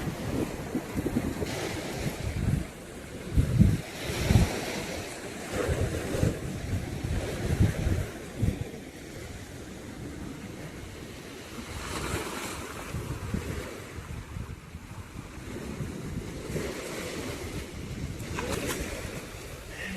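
Sea waves wash onto a beach in repeated surging swells, rising and falling under gusty wind buffeting the microphone, with no talking.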